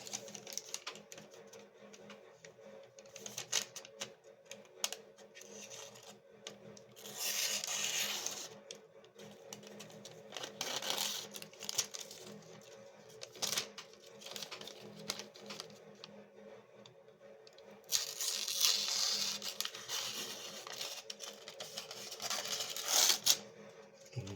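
A Matsato kitchen knife slicing through a sheet of paper, giving two separate bursts of crisp, papery rasping and tearing at close range over a faint steady background hum.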